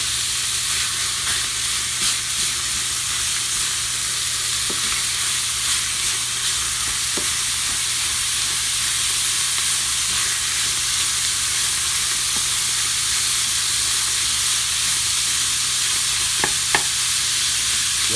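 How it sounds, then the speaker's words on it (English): Ground beef, onions and sausage sizzle steadily in a hot pan, a constant loud frying hiss with occasional scrapes and taps of stirring throughout. "my raw ground beef cooks on the other side, continuing to still stir up what we have in the pan on this side"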